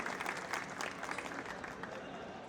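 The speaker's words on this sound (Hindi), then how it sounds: "एक बार जोरदार तालियों से स्वागत किया जाए।" Audience applause at a Rohini Court felicitation ceremony in 2025, steady dense clapping from a crowd that holds at an even level through the whole stretch.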